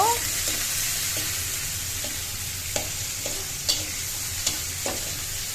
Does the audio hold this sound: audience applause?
no